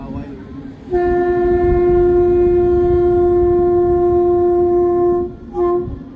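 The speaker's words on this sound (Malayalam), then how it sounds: "ട്രെയിൻ വരുന്നുകൊണ്ടിരിക്കുന്നു" A train sounds a long, loud horn blast lasting several seconds, then a second short blast, over the rumble of the passing train.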